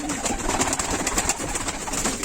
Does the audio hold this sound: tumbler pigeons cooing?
yes